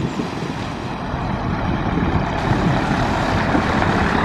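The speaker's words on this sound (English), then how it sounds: "And a noisy ERF." Classic ERF lorry with a noisy engine driving past at a truck stop lorry meet, a steady loud rumbling roar that holds throughout, close by, with no voices.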